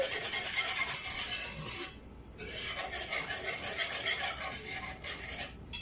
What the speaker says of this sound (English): We'll use a whisk for this to make sure it all gets incorporated nicely